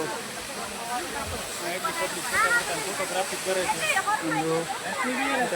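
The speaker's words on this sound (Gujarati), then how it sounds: "અહીં ઉપરથી ધોધ પડે છે" A waterfall pours down from above beside a Mahadev temple at Osam hill near Patanvav, a constant hissing roar under the chatter of a crowd of visitors.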